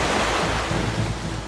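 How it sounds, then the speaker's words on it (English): Heavy winter-storm surf surges and churns against the Santa Monica pier in a dense, loud wash of noise, close and continuous, with low rumbling beneath. "the devastating waves of a winter storm are tearing into a crumbling Santa Monica pier"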